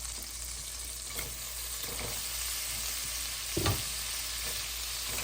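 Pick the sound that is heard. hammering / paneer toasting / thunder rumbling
paneer toasting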